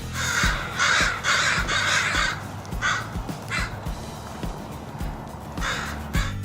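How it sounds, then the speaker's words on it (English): Crows passing overhead give a run of loud, close caws in repeated clustered bursts, with short gaps between calls and no talking. "catching the attention of some crows that were passing by"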